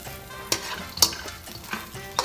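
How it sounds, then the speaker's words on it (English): Cashews toast over medium-high heat in a pan and are stirred quickly, with a soft sizzle and repeated scraping strokes about every half second, close and clear. "keep stirring them very quickly"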